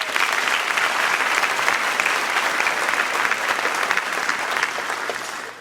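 Sustained applause from a large crowd at a graduation ceremony, steady dense clapping filling the whole stretch and fading slightly at the end.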